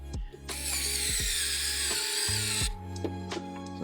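Power drill driving 10-gauge self-tapping screws to fit a licence plate bracket on the rear of a 2025 BMW X5, a close whine that changes pitch and shifts several times.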